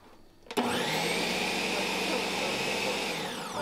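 A Ninja blender kicks on abruptly and runs at a loud, steady high-pitched whir, close up, for about three seconds.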